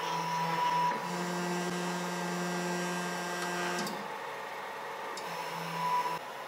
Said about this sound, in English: Home the print head, this will let you to move it.